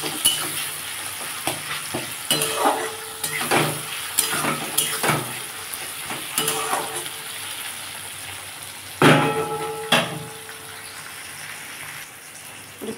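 Onion and tomato frying in hot oil for a fish curry with lentils, potato and ridge gourd, a steady close sizzle broken by repeated stirring scrapes, with no talk.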